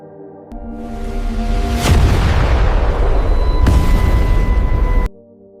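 A loud, sustained rumbling boom as a supernova explosion shockwave sound effect swells in, roars for several seconds, then cuts off abruptly into low quiet tones.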